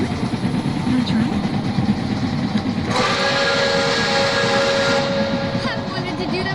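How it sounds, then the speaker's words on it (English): A steam whistle from Pere Marquette 1225, the steam locomotive, sounds in the cab as a sustained bright tone held for about two seconds over engine rumble and people talking. "that rope is the whistle."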